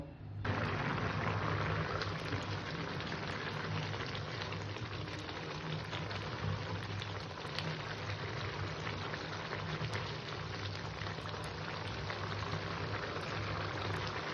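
Chicken pulao bubbles in a pot on low gas, a steady, quiet hiss of boiling liquid with a faint low hum beneath, constant and unbroken throughout.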